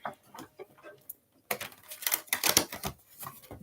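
Spiritual AF oracle card deck being shuffled, soft scattered taps at first, then a dense burst of quick papery riffling and clicking cards, close and fairly loud.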